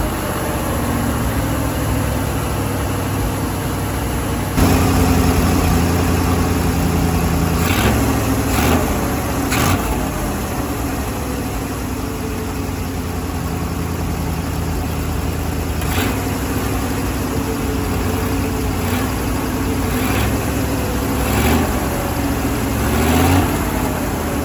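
A firetruck engine idles steadily at a slightly raised speed, with a constant low rumble and a few faint clicks and knocks over the top.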